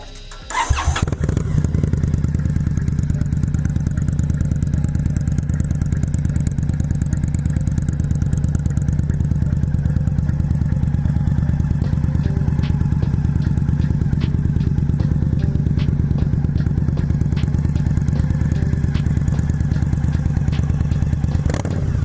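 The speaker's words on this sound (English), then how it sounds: "This is the audio test of the shortened exhaust" An Indian Scout motorcycle with a shortened factory exhaust starts up close and then idles loudly and steadily for about twenty seconds, with a deep, even rumble and a rapid pulsing beat.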